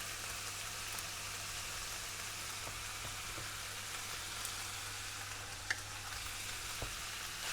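Tomato puree being stirred into frying spices in a pan for a spiced beef and pickle pie, giving a steady, continuous sizzle with a few faint clicks of the spoon and no talking.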